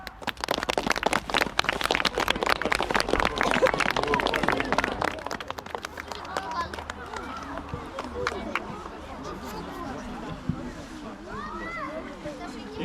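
Applause and clapping from a crowd at a youth football awards ceremony as a player receives an award, loud at first and then thinning into scattered claps under general crowd noise.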